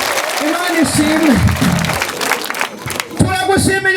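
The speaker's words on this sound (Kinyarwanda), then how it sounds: "Aba turi kumwe mwongera mukomere Yesu amashyi cyane." A church congregation applauding, loud rhythmic clapping mixed with a speaking voice and crowd noise throughout.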